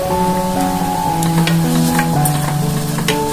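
Onions sizzle and fry in a pan with cinnamon stick, clove and salt, a steady close hiss with stirring scrapes and no voices.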